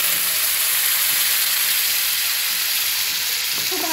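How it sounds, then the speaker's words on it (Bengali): Ground spice paste hits hot oil in a pan for doi potol posto, a steady close sizzling hiss that holds evenly throughout with no speech. "এই তেলেতেই আমি দিয়ে নিচ্ছি বেটে রাখা মশলাটা।"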